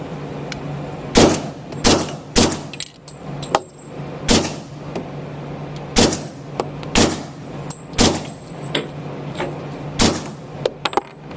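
Loud, sharp shots from an FNH FNX-45 Tactical pistol, about a dozen in uneven bursts and single reports with short gaps between them, each cracking close and alone over a low steady hum.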